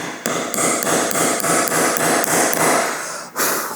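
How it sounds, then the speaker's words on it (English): A steel dowel hammered into a wooden jig while building a guitar: about a dozen sharp, ringing hammer strikes in a steady rhythm, loud and close, ending with one final hit. "Probably want to hammer that in just a little bit more."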